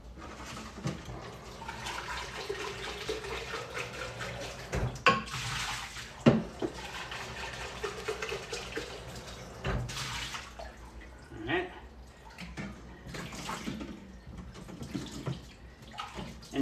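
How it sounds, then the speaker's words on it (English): Hot water runs from a tap as a filter housing is rinsed out, a steady splashing flow with irregular louder gushes and knocks throughout. "Let me rinse this out. I'm gonna use hot water because I haven't turned the hot water off."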